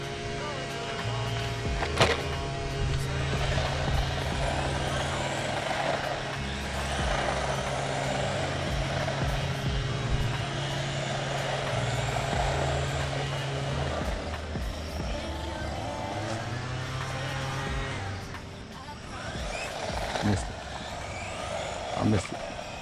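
A PKX Beast 1/16 scale RC truck driving outdoors at night, its electric motor whining steadily with pitch rising and falling, occasional clunks from bumps and jumps, and someone talking over it.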